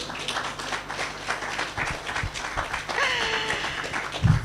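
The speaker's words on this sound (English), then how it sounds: "Please clap." An audience applauding at a Labone Dialogues talk, scattered hand claps building loosely over several seconds, moderately loud with faint murmuring voices mixed in.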